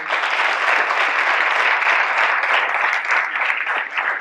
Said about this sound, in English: Cadets, please join me in another round of applause for him.